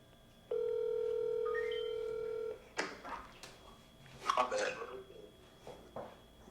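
A phone call on speakerphone gives a steady two-second ringback tone, followed by a click of pickup and faint clatter as people talk nearby.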